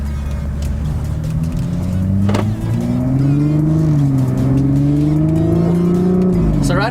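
A BMW M135i with a Stage 1 tune accelerates, its engine note climbing loud and near through the gears with a brief dip at a shift. A short spoken remark passes over the drone.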